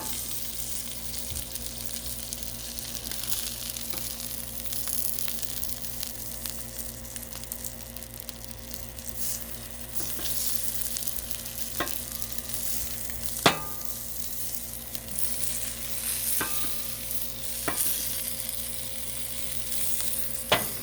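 Corn on the cob seasoned with chili lime sizzles on a Blackstone griddle, a steady, moderately loud frying hiss lasting throughout with occasional clicks and pops.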